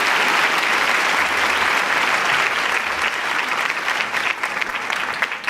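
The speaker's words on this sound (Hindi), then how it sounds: "तो आप सभी तालियां बजाकर उनका स्वागत कीजिए" Applause welcoming an education minister at a college function: a dense, loud burst of many hands clapping from a large audience, sustained throughout and thinning slightly toward the end.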